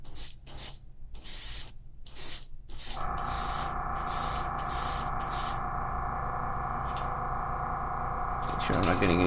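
Airbrush spraying candy metallic paint onto a Gunpla scale model, bursts of soft hissing air at first, then a continuous spray with a steady compressor hum underneath, close and fairly quiet, no talk.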